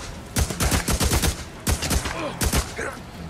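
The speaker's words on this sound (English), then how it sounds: "I like the assault rifle better" Assault rifle fire in the video game Days Gone comes in several rapid, sharp bursts separated by short pauses, loud and close, with almost no talk.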